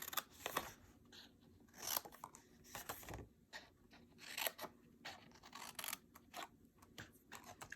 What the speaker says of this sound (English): we're going to cut those off completely